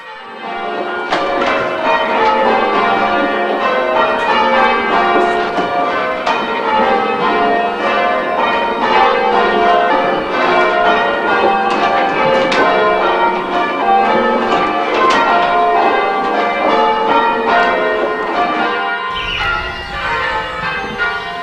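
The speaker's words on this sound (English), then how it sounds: "The sound of church bells on a tranquil summer's day" Church bells peal continuously in Wingrave village on a summer's day, a dense, loud cascade of overlapping bell strikes ringing changes without pause, ending with a low rumble near the close.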